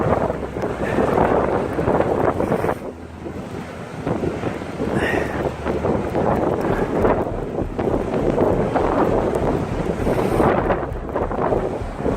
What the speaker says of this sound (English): So the waves crashing.